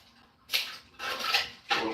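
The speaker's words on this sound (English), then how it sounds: "cut it up on the chopping block." A knife cuts ground turkey on a chopping block, giving three separate scraping, tapping strokes with brief pauses between them, close and moderately loud.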